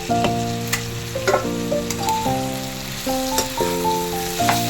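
Vegetables sauté with masala in a pan, a steady sizzle with occasional stirring scrapes, heard alone beneath a sustained background music tone.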